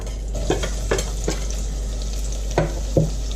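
Onion sizzles and crackles in hot oil with cumin seeds in a small saucepan, with a few scraping stirs of a utensil punctuating the steady frying.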